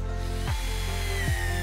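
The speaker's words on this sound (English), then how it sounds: "Now we'll grab our roofing screws and start drilling the panels into the roof." A power drill drives roofing screws into PVC roof panels on a greenhouse, a loud steady whine with two quick pitch dips as the motor loads and releases.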